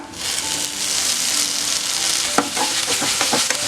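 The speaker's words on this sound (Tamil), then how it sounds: "முடக்கத்தான் தலை எண்ணெயிலே நல்லா சுருண்டு வரணும், அந்த அளவுக்கு நல்லா கிளறி விட்டுக்கிட்டே இருங்க" Oil sizzles steadily as mudakathan keerai (balloon vine greens) fry, with a few sharp scraping stirs of a spatula against the pan toward the end.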